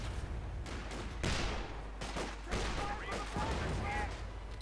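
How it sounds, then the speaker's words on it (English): Artillery shells pound a house in Company of Heroes 2, a 1v1 match: repeated heavy booms and bursts of gunfire roll through a dense battle din, with a commentator's voice running over it throughout. "And artillery there bombarding the house."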